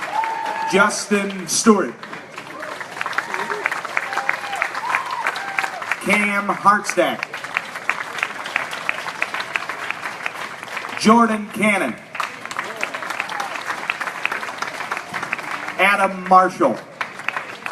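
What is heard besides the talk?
audience applause for auction contestants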